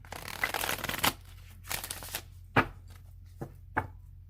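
A deck of tarot cards being shuffled by hand, close up: a riffling burst, then several separate sharp flutters and taps with quiet gaps between them.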